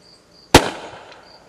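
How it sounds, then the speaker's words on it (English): An airsoft projectile grenade launcher fires once outdoors toward a tree about 68 feet away, giving a single sharp, loud pop followed by a brief fading tail in otherwise quiet surroundings. "we're going to try to shoot this again"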